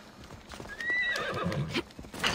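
A horse in Assassin's Creed Odyssey gives a brief whinny, followed by a few clopping hoofbeats. The sounds are fairly quiet and alone, with no talk over them.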